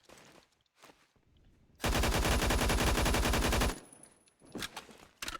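An AUG HBAR fires a single sustained full-auto burst in the online shooter Phantom Forces, loud rapid evenly spaced shots for about two seconds, framed by quieter footsteps and handling clatter.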